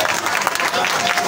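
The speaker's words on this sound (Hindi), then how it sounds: "उनके लिए जोरदार ताली बजा दीजिए" Loud audience applause at a bhajan kirtan devotional gathering, a dense steady wash of many hands clapping together for the whole short stretch.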